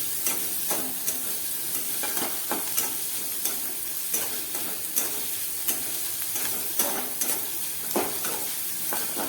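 Onion frying in a pan for a cauliflower curry, a continuous hissing sizzle punctuated by regular stirring scrapes and taps of the spatula every second or so, close with no voices.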